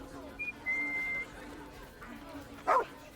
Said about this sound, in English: Whistle for Scratch.